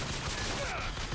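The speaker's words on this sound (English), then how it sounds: "Those fireworks are just going." Fireworks crackle and pop in a rapid, dense burst in Bioshock Infinite, a loud continuous fusillade of bangs filling the short stretch.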